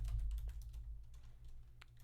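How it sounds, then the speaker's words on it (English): Computer keyboard typing in a short burst of quick, light key clicks with uneven rhythm, close and clear over a low steady hum, no voices. "just type in the custom URL"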